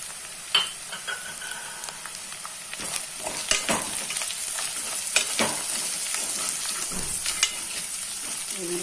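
Coriander, cumin, turmeric and salt frying in a mutton curry base while being stirred, a continuous close sizzle broken by scraping and clinking strokes of the spoon against the pan.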